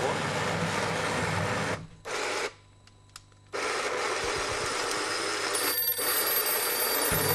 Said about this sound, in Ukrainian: І у нас вже є телефонний дзвінок.